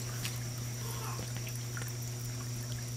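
Water trickles steadily on a vegetated mountainside on family land, a continuous close gurgling flow with a constant low hum beneath it.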